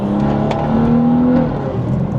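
Car with an xHP transmission tune accelerating under throttle, a steady loud engine drone with a rising whine throughout, close and continuous with no talking.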